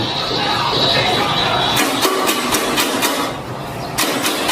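A motorcycle's push-button electric starter cranks on a small battery, giving a loud, steady whirring drone that weakens and breaks into uneven bursts toward the end without the engine catching.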